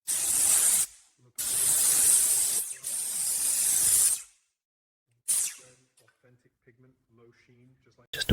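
Bursts of spray-gun hiss from a spray gun atomizing primer onto the airframe of a restored WW2 Mitsubishi Zero, three long loud blasts then a shorter one, with quiet pauses between.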